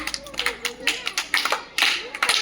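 A first-grade class of children in a government school claps in quick, uneven bursts of many small hands close by, with voices talking over the clapping.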